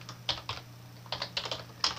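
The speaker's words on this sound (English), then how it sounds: "I'm just going to type in there" Quick, light clicking of a computer keyboard as a path is typed in, irregular clustered keystrokes close by with short gaps, alone without speech.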